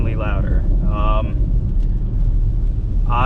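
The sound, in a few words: BMW X3M with single mid pipe exhaust running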